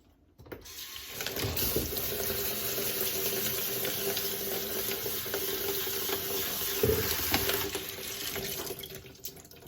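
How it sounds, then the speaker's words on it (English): Tap water runs steadily into a sink to rinse a third of a cup of wild rice, making a close, continuous splashing hiss that lasts for about nine seconds after a brief start, with no speech. "I have 1/3 of a cup of wild rice, and I'm gonna put this in here. I'm gonna rinse it off first of all."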